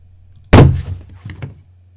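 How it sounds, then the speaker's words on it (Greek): A door opening from a Fairlight foley library, heard as one loud close thud of the latch and swing followed by a softer knock and creak, alone in a quiet room. "Μία πόρτα που ανοίγει."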